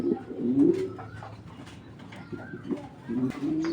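Caged Baghdadi hook pigeons coo close by in deep, rolling bursts, one at the start and another near the end, with softer rustling between.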